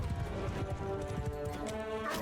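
Horses gallop in a battle in the video game Mount & Blade II: Bannerlord, with a fast run of hoofbeats under a dense wash of battle noise and music.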